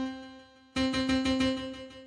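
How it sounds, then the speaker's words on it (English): A regular piano preset in music production software with its effect switched off plays a steady repeating pattern of notes, close and clear, with a sustained tone starting faintly then jumping louder partway through. "it's a piano, regular piano."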